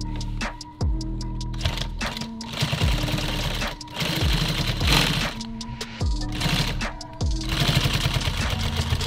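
A sewing machine stitches nylon tactical gear in repeated loud mechanical bursts, its rapid needle chatter starting and stopping several times with brief pauses between runs, close and continuous.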